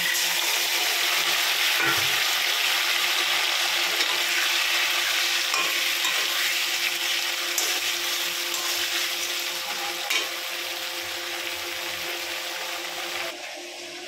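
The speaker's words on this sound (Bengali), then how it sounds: "আলুটা একটু ভাজা ভাজা হয়ে গেছে, এবার মশলাটা দেবো।" A paste of ground cumin and chilli goes into potatoes frying in a pan, and a steady close sizzle carries on under repeated scraping strokes of stirring, easing slightly toward the end.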